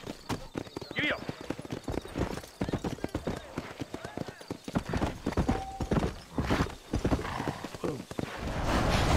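Rhythmic clip-clop of a horse's hooves at a fast gait in the video game Red Dead Redemption, close and strong, with the horse whinnying briefly early on and people talking over it.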